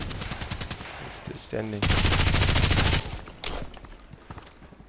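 Rapid automatic gunfire in the shooter game Contract Wars, a fast burst of close, loud shots followed by a dense sustained volley, then scattered fainter shots, with someone talking briefly in between.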